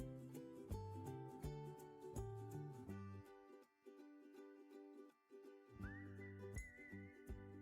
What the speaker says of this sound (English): Oh, whistling.